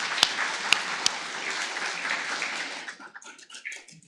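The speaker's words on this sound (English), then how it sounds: "They deserve a little round of applause." A church congregation applauds in a reverberant room, a few sharp claps at the start, then steady clapping that fades out.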